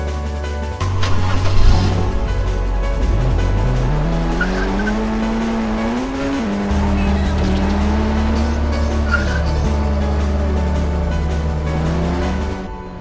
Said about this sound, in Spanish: podrás conducir un auto a control remoto